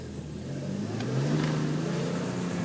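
A car engine climbs in revs and holds high while a shift paddle is held in for uphill pull-away, a steady close mechanical drone with a rising pitch partway through and no talk.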